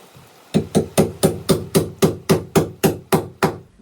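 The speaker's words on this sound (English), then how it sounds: "I get the big hammer for this over here." A big hammer drives nails into a cabin subfloor by hand, about a dozen sharp, evenly spaced strikes sounding close and loud in a steady rhythm with no talking.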